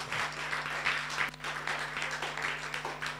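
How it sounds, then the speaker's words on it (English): Steady applause from a congregation at a church prayer service, many hands clapping continuously at a moderate distance, with no voices standing out. "Clap for Jesus, everybody."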